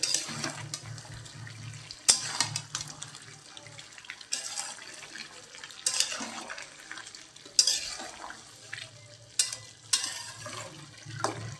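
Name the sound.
stirring mutton while cooking Bengali mutton curry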